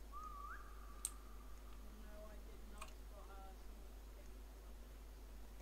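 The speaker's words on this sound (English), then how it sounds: "I'm gonna whistle in 3, 2, 1." A person whistles a single rising, then sustained note, followed by a few shorter softer whistled tones, faint over low hum, with a sharp click near the start.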